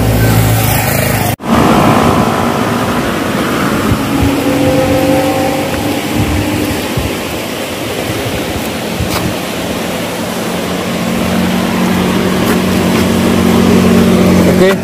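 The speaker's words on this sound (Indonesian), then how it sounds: "kalau ada truk lewat tuh suaranya keras" A truck rumbles across a bridge in Malang, a loud, broad roar of engine and tyre noise that holds steady for many seconds and slowly swells again toward the end.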